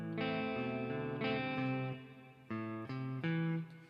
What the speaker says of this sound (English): you could hear my reverb on my amplifier a little bit there